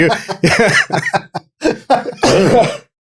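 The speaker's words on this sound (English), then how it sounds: "that made me cough" A short run of coughing bursts, close and fairly loud, with brief gaps between the fits.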